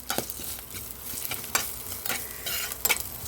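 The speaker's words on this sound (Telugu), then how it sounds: "వేగిపోయింది మళ్ళీ ఒక పావు నూనె వేస్తున్నాను" Nalleru leaves and tamarind frying in hot oil while being stirred, a close, continuous sizzle broken by repeated scraping strokes of a spoon against the pan.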